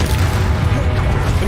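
Confringo blasting spell explosions in Hogwarts Legacy: a dense, continuous barrage of booming, crashing game combat noise with heavy low rumble filling the whole moment, loud and close.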